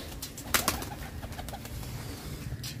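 Pigeons coo around their feed and water, a soft repeated throaty murmur close by, with a couple of sharp clicks and taps from the feeding area.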